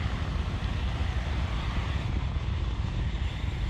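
A SpaceX Falcon 9 rocket climbs at night on the Bandwagon-2 mission, its engines a steady, dense, broadband roar filling the whole clip with no break, loud and continuous.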